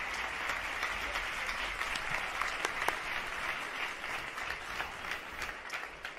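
A live audience breaks into steady, sustained applause at an award ceremony, the dense clapping holding at an even level for several seconds with no voices over it.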